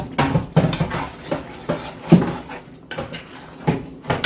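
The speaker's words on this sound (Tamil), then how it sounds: "இப்போ நல்லா மிக்ஸ் பண்ணி விடுவேன்." Chicken curry with yogurt being mixed in a pan: a spoon scrapes and knocks against the metal in repeated uneven strokes, close and fairly loud.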